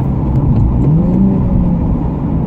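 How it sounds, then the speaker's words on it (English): A Nissan 370Z Nismo engine blips and revs during a downshift, a loud, close mid-pitched rise and fall of the motor with a steady whir underneath, no voices. "That's a decent downshift."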